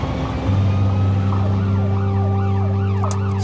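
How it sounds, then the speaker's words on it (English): A UK emergency vehicle's siren wails in repeated rising and falling sweeps through traffic, loud and close above a steady engine drone. "Something as big and yellow as this with lights and sirens on"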